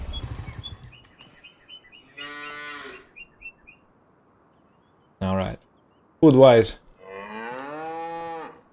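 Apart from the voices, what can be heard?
cows mooing on a farm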